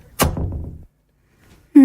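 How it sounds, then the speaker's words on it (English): A door is shut quickly with a single sharp thunk that fades briefly into silence before a voice begins. "He saw the cloaked figure and quickly shut the door behind him."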